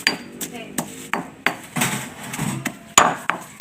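Mackerel chili paste pounded with a mortar and pestle, a series of close, sharp thuds about every half second with scraping in between, no talking.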